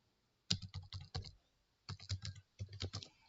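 Bursts of typing on a computer keyboard, the word "intelligence" entered into a search field: quick clustered key clicks in three short runs separated by brief pauses, close and fairly quiet, with no talking.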